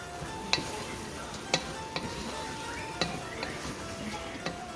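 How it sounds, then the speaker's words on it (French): Thai fried rice with shrimp, tomatoes, pineapple and vegetables is stirred in a pan, with sharp utensil taps and scrapes recurring every half second to second over a soft, continuous sizzle, close by. "Là, je vais juste mélanger."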